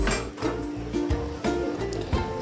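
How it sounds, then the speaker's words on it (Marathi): A metal kadhai is set down on a lit gas stove in a home kitchen while a Khandeshi surmai fish curry is being made, giving several sharp, close metallic clanks and knocks over a low background hum. "आणि आपली कढई आपण ठेवून घेऊया"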